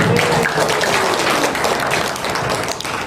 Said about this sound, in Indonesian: silakan dulu berikan tepuk tangan untuk saudaranya